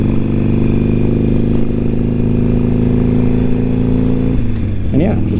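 A Harley-Davidson Iron 883 cruiser motorcycle holds a steady engine drone while cruising at a constant pace, loud and close, with a brief pitch shift near the end.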